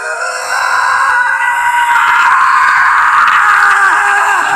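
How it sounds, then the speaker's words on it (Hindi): A piercing scream, used as a horror-story sound effect, rises loud and close and holds for several seconds as a continuous, shrill, wavering wail. "एक तेज रूह कंपा देने वाली चीख जो सन्नाटे को चीरती हुई उसके कानों में घुस जाती है"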